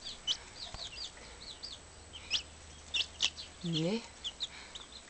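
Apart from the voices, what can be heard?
small chicks peeping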